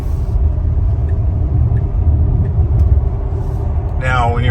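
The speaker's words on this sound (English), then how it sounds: "Just getting on the highway here. Going easy on the throttle." A Tesla Model X towing a trailer pulls onto Highway 74 under gentle throttle, giving a steady low road rumble and tire noise inside the cabin, with a voice briefly at the end.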